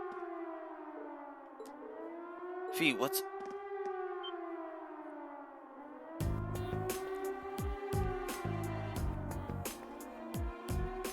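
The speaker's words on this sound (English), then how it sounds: "It sounds like a siren. Seems to be coming from the fort." Siren from a fort in the video game Trails of Cold Steel, a loud wailing civil-defense tone rising and falling in long sweeps, with a voice speaking briefly and game music and effects joining partway through.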